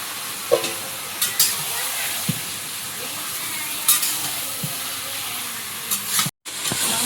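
Meat sautéing in a pan with spice paste, part of a chicken dish, giving a steady soft sizzle with occasional scraping stir knocks and clicks, close and fairly quiet, with no talk.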